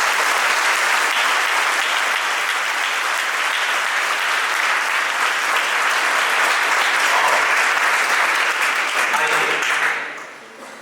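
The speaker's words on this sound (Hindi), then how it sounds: "इसलिए जोरदार एक बार अपने माता पिता के लिए तालियां बजाएं।" Loud, sustained applause from a large audience honouring parents during a spiritual talk, a dense wash of clapping that holds steady for about ten seconds before fading quickly at the end.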